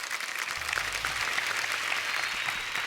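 Sustained studio audience applause for the celebrity guests on a Hindi comedy talk show, steady and fairly soft, with a low hum or music underneath at the start.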